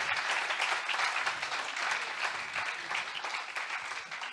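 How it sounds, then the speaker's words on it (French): A conference audience applauds a panel of four, a dense, steady burst of clapping filling the room for a few seconds at moderate volume. "vous pouvez les applaudir"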